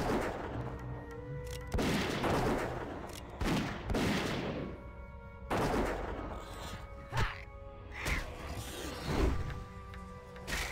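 A hunter's gunshots in World of Warcraft Classic: a string of sharp, loud reports spaced every second or two, each with a brief crashing tail, over faint game ambience.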